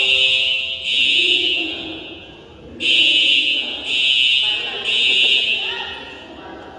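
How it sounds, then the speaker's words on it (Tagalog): A fire alarm goes off during a basketball game, sounding in loud repeated buzzing blasts with short gaps between them, while people talk in the gym. "Baka may nagano. nagpindot May ng nagpindot ng fire alarm."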